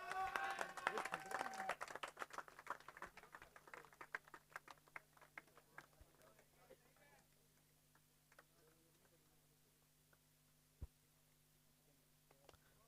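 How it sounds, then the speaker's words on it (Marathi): An audience claps at the prize distribution ceremony of the Mandangad Premier League 2025 cricket tournament. The crackly applause is loudest at the start and thins out over the first few seconds, leaving a low hum and a stray clap. "एकदा टाळ्यांचा गजर होऊ द्यात"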